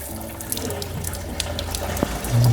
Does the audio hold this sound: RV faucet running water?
yes